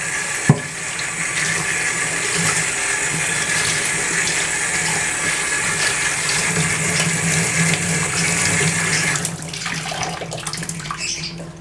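Tap water running steadily onto hair being soaked before shampooing, a loud, continuous close rush that changes and tapers near the end.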